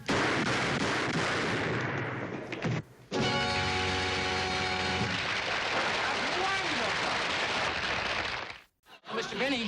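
Gunfire in a television comedy sounds as loud, noisy blasts, broken by brief silences and mixed with voices.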